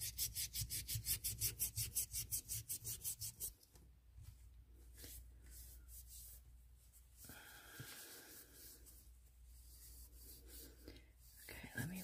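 Resin piece from a mold sanded by hand with sandpaper: quick, even back-and-forth rasping strokes for the first few seconds, then softer, irregular rubbing and handling noises close by.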